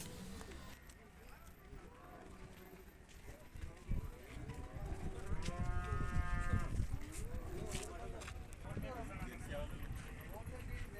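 Buffaloes low and moo amid a busy outdoor crowd at the Erragadda Sunday buffalo market, with people talking throughout and scattered hoof clatter.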